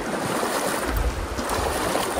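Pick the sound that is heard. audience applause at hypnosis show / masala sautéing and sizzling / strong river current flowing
strong river current flowing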